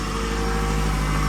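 A car's GDI engine idles steadily just after starting, a close, loud, continuous mechanical hum with no other sounds.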